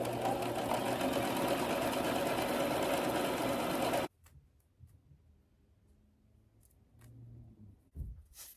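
A sewing machine hems the edges of fabric straps, running loud and steady for about four seconds before stopping, followed by quieter handling noises and faint scattered clicks.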